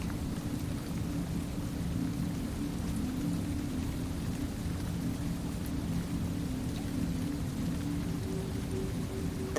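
Steady rain falls in a forest, a dense continuous hiss with low rumbling underneath, constant throughout and free of voices.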